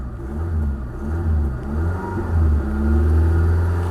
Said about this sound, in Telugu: అసలు ఇంజిన్ బీటింగ్ చూడండి